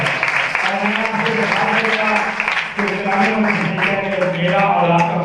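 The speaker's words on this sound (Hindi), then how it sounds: "बस ऐसा अपनी जोरदार ताली बजाएंगे।" A congregation applauds loudly at a Sukkot Feast of Tabernacles church service, a steady wash of clapping that runs the whole time beneath a voice talking or singing over it.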